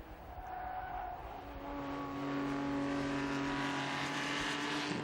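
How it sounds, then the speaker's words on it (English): Historic race cars scream past on the Estoril circuit, engines revving with steady high-pitched whines that build in loudness, joined by tyre squeal, with no talking. "Tyres squealing on Dero's car"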